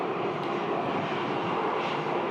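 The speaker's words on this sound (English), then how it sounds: "They've got the engine actually fired up and running." A parked United Boeing 737 runs a jet engine on the ramp at Phoenix Sky Harbor Airport during engine work, giving a steady, even roar heard from a distance with no voices.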